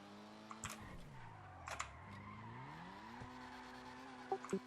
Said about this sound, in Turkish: Araba drift arabası kayıyor sürekli.